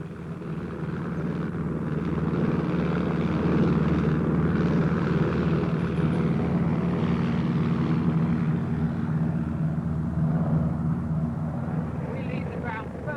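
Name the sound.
tow plane taking off pulling a glider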